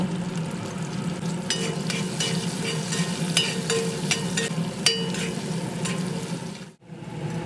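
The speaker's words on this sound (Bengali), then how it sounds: "ভালোভাবে নেড়ে চেড়ে বেশ লালচে করে আলুর টুকরোগুলো ভেজে" Potato pieces frying in hot oil with a little salt and turmeric, a steady sizzle broken by repeated scraping clicks of a spatula stirring them in the pan, with a brief dropout near the end.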